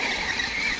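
An Arrma Fireteam RC car with flat-sided tires whips through a handbrake turn, its tires giving a short, sharp squeal of under a second.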